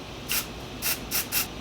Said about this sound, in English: this is the Smith & Cult Instant Recall Invisible Powder Setting Spray